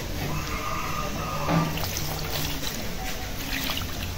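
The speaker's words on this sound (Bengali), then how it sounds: "এখন একটু পানি দিয়ে দেব" Water poured into a cooking pan holding coated fish and ridge gourd, a steady soft splashing rush that runs throughout with no talk.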